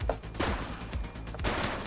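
Rapid bursts of gunfire in the video game The Precinct crackle continuously, dense and loud, with sharp repeated shots overlapping throughout.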